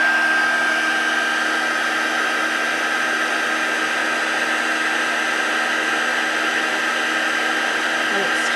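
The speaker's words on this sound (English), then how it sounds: "we're going to heat emboss this. This will be a little bit loud. Put it on second setting." A heat embossing tool blows hot air on its second setting for card making, a loud, steady whirring hiss with a constant whine that runs unbroken and close throughout.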